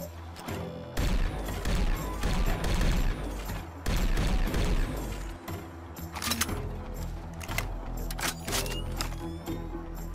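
A laser rifle from a Fallout 4 weapon mod fires in sharp, crackling bursts, with a sustained rapid volley early on followed by spaced single zaps and mechanical clicks, loud and close with no talking.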